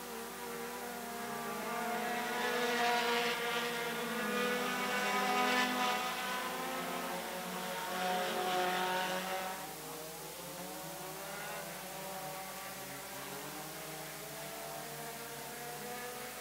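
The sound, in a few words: race cars lapping a track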